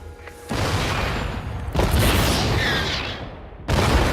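Heavy booming blasts of artillery fire from StarCraft II siege tanks shelling cannons hit in a few bursts, loud and close, with crackling explosions and rumble between the impacts.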